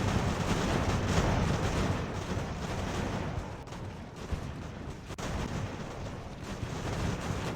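Artillery fire from the video game Ultimate Admiral: Age of Sail at the Battle of Bunker Hill, heard as a continuous distant rumble of cannon and musketry, a dense steady roar with no talk.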